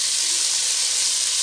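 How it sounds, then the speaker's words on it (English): Food for Nigerian fried rice sizzles in a pan with a loud, steady, even hiss that runs unbroken throughout. "So let's fry another one."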